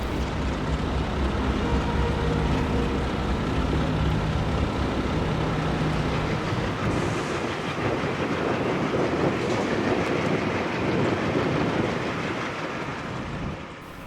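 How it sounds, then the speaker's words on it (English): ALCO M636 and M630 diesel locomotives haul a train past at steady volume, a dense rumble of engines and rolling wheels with rhythmic rail clatter, fading slightly at the end. "The power for today's train is ALCO M636s 3643 and 3000, along with M630 number 3007."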